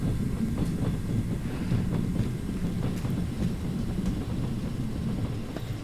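A steady low rumble of a train running in the Trans-Siberian Railway Simulator game, with continuous rolling noise and faint periodic clicks of wheels over rail joints, unbroken and with no voices.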